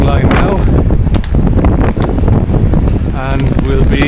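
Strong wind buffets the microphone on a Cork city street along Grand Parade, loud rumbling gusts mixed with a blind pedestrian's cane tapping and passing sounds, with someone talking over it.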